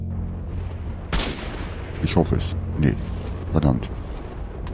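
A sharp, loud gunshot rings out in the video game S.T.A.L.K.E.R.: Shadow of Chernobyl, followed by someone speaking in German under the game's background ambience.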